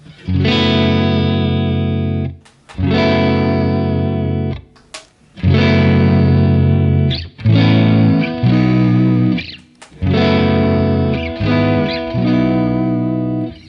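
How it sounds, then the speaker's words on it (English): Distorted electric guitar through a JTM45 amp model playing sustained, crunchy chords in several bursts with short gaps, loud and close with a warm, overdriven amp tone. "this is apparently what a JTM 45 would sound like"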